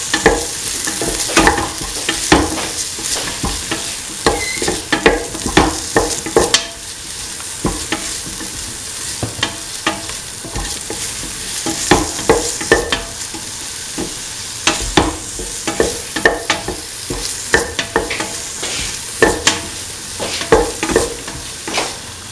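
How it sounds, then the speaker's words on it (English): Potatoes and chickpeas sauté in a hot pan with steady sizzling while a spoon scrapes and stirs in a quick, repeated rhythm, loud and close throughout. "Keep on sauteing."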